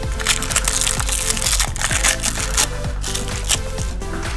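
A cherry Ring Pop candy wrapper is unwrapped close up, giving a quick series of crinkling, crackling plastic rustles for a few seconds, with no talk.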